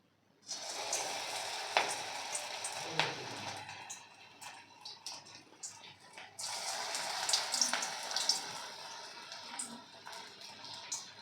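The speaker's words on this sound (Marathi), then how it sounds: "तेल तापलं आहे मंचुरियन तेलामध्ये सोडून घ्यायचे" Veg Manchurian balls dropped into hot oil, giving a steady, bright sizzle and bubbling with surges as more balls go in, fairly close and heard alone.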